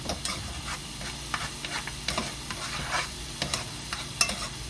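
Garlic cooks in butter over a stove turned up high, a close, steady sizzle and crackle with frequent scraping clicks of a utensil stirring the pan and no talk.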